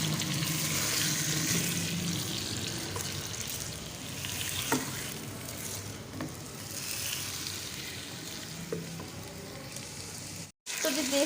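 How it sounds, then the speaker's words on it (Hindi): Chicken shallow-fries in oil with golden ginger and garlic, a dense steady sizzle with occasional soft utensil taps, ending in a brief sudden cutout. "साथ ही साथ इसमें मैं डाल दूंगी चिकन। इसको भी अच्छे से हम शैलो फ्राई करेंगे।"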